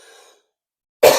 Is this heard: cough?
yes